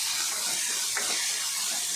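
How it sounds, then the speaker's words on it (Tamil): Tomato, green peas, carrot and beans sautéing in a pan for nombu kanji, a steady loud hiss and sizzle with no talk. "தக்காளி, பச்சை பட்டாணி, கேரட்டு, பீன்ஸு எல்லாம் போட்டு நல்லா வதக்கலாம்."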